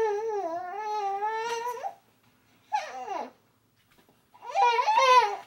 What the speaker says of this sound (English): that noise in the background's my baby